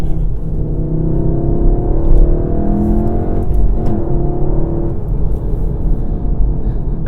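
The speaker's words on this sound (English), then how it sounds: "That's the best I can do as far as snappy gear changes in this Golf R" A manual 2017 VW Golf R engine revs up and eases off near the microphone, its pitch rising and dropping as gears change, a continuous loud rumble and whir with no talking.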